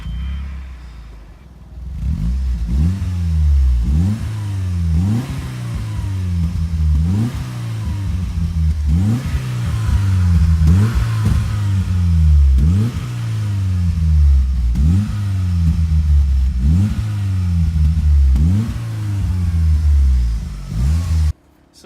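Track car engine with a modified exhaust system revving repeatedly in steady, loud, rhythmic pulses that rise and fall, close up and with no talking.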